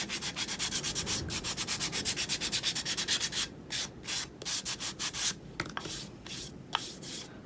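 Painted wooden Christmas tree pieces are sanded to distress their fronts: fast, close scratchy rubbing strokes at first, then slower separate swipes with a few light taps near the end.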